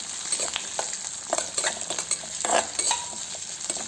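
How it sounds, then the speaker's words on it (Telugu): Green peas fry in oil for vangi bath, giving a close crackling sizzle with quick spatula scrapes and clinks against the pan in an uneven rhythm, with no one speaking. "ఇవన్నీ కూడా బఠానీ ఆయిల్లోనే ఫ్రై అయ్యే వరకు కాసేపు వేయించుకుందాము."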